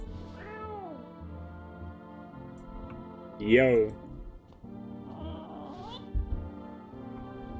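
A cat meows inside a video game, a few short rising cries over steady game music, with a person speaking now and then.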